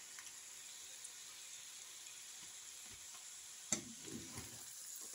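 Mushrooms and carrots sizzle in a pan for Asian noodles, a steady quiet frying hiss with a few soft scraping stirs near the end.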